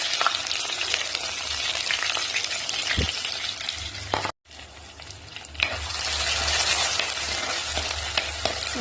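Garlic and shallots frying in hot oil with fenugreek seeds and curry leaves, a bright continuous sizzle with a stirring clink or two, briefly cut to silence midway before the crackling resumes strongly.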